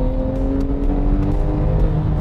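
A 2013 Porsche 911 Carrera S engine holds a steady, loud, close rev, its deep drone and whirring tone sustained without a break and no voices.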